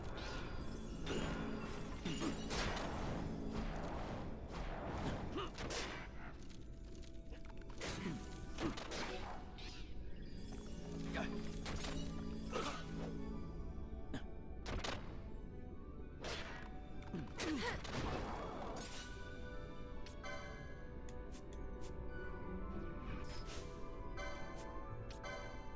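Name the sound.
Balthier's gunshots in the video game Final Fantasy XII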